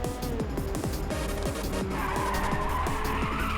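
Tires squeal and skid as a car oversteers in the Ridge Racer video game on PSP, with a loud, continuous skid over racing engine revs that rise and fall repeatedly in quick shifts.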